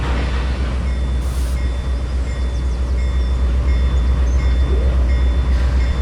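A long 27-car train being hauled out onto the main stretch of track, with a steady, loud rolling rumble and rattle of the cars throughout and no talking.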